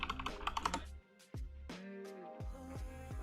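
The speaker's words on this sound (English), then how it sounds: "Go ahead over here, ion icons, and you just type in Twitter." Keys on a computer keyboard click in short close bursts, a quick run of presses and then a few spaced taps, with faint talking underneath.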